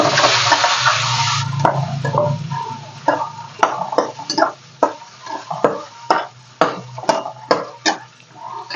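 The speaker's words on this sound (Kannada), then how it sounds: "ಇವಾಗ ಮೊಟ್ಟೆ ಫ್ರೈ ಮಾಡ್ಕೊಳ್ಳೋಣ" Beaten eggs frying in a pan with a brief hissing sizzle at the start, followed by a rhythmic series of scraping, knocking strokes of a utensil against the pan, close by.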